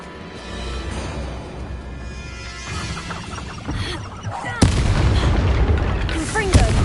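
Confringo blasting spell in Hogwarts Legacy bursts into a loud, sharp explosion midway, followed by sustained rumbling blast noise and further impacts over game ambience.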